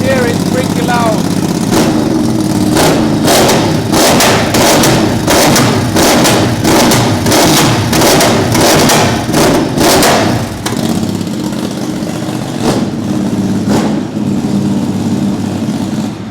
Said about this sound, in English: Crazy exhaust system. It sounds so crazy.